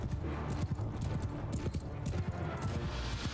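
Horses gallop across a battlefield in Mount & Blade II: Bannerlord, a dense, continuous drumming of hoofbeats from many riders mixed with clattering combat noise.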